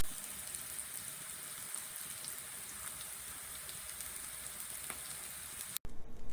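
Mushrooms brown in a pan with a steady, soft sizzle that runs unbroken and fairly quiet, then cuts off abruptly near the end.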